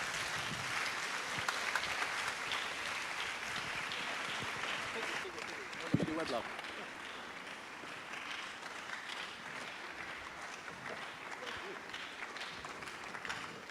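A live audience at a talk-show hangout gives sustained applause welcoming the host, dense clapping running steadily throughout with voices mixed in and a brief louder clap near the middle.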